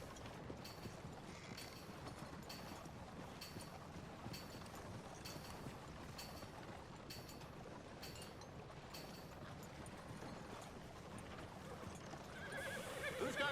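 In Red Dead Redemption 2, a horse gallops along with a busy, continuous rumble of hooves, and a neigh rises among the steady rush of movement and outdoor noise.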